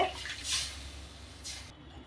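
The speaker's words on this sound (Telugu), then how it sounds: "దీనికి నాలుగు గ్లాసులు వాటర్ పోస్తున్నానండి" Water poured by the glassful into a cooking pot for making rava from ration rice, heard as two short, soft splashing pours about a second apart.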